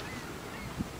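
Geese honk faintly in the distance, two brief calls rising over a steady hiss of background noise.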